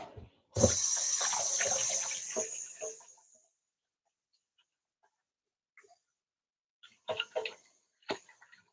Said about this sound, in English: I'm just gonna wash my hands again.